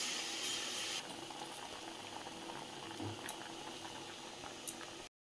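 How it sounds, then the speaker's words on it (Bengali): Chopped radish greens steam in water in a wok, a continuous close bubbling boil that holds steady throughout, faint and alone apart from one soft clink near the end. "মূলো শাকটা ভাপিয়ে নিয়েছি,"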